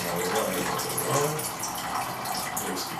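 Water being poured into the pan of a Kenwood 250 BM bread maker, a continuous close splashing gush for a few seconds with no voices.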